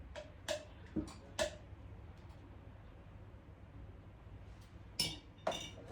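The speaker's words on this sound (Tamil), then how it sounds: "இதால் சீனி கரையும் வரையும் கலக்கி விட போகிறேன்." Spoon stirring sugar in a container until it dissolves for homemade ice fruit pops, a few scattered clinks and taps against the side over quiet background, no speech.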